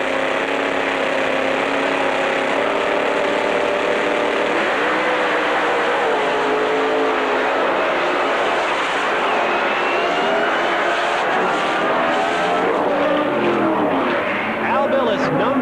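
A supercharged Chevrolet pro mod drag car races with a loud, sustained engine roar that climbs in pitch through each gear, heard from on board, with an announcer talking over it.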